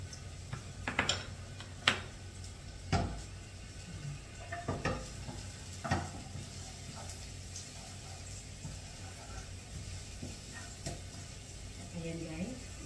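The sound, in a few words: garlic frying and being stirred in a pan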